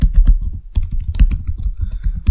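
A computer keyboard being typed on to enter a Linux terminal command, a quick run of close, crisp keystrokes with a short pause partway through.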